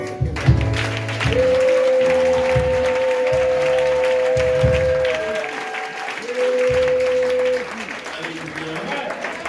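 A church congregation claps and cheers loudly for several seconds, mixed with sustained music and voices, easing slightly toward the end.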